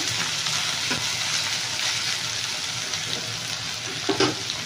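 Green chillies lightly frying in a pan for a Bombay chutney-style curry served with puri: a steady, close, even sizzle with faint stirring clicks and no talking.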